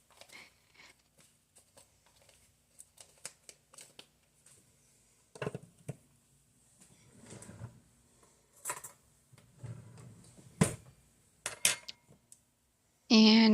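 A utensil knocks and scrapes against a bowl while stirring muffin batter with onion powder, sparse irregular clinks and taps at close range, quiet between strokes, with a voice talking at times.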